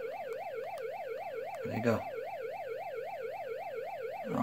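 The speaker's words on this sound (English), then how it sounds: "Cop sirens." The NES game Matchbox Motor City Patrol plays a chiptune police car siren, a steady, rapidly rising and falling electronic wail that runs throughout. Someone speaks briefly over it partway through.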